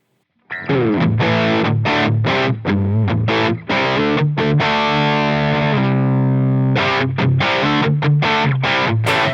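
Electric guitar played through a Line 6 Helix Placater Dirty amp model based on a Friedman BE100, with higher gain dialed in: loud distorted riffing with choppy muted stabs and a sustained ringing chord in the middle.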